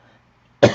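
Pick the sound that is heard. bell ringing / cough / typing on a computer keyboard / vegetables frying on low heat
cough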